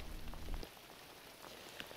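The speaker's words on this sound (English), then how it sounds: "We're getting a band of heavier rain" Heavy rain from a storm beats down in a dense, even hiss of drops on surfaces, close and steady, with a low rumble at the start and no voices.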